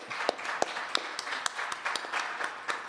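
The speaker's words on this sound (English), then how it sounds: "give him a big round of applause" Scattered, fairly sparse hand clapping from a small audience at a live-streamed event honoring guests, with a few sharp individual claps standing out over a soft murmur.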